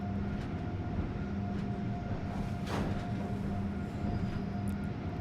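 In the Train Sim World game, a freight train rolls through a rail yard with a steady low rumble and faint intermittent clunks in the background, distant and fairly quiet.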